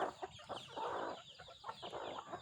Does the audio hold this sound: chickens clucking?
yes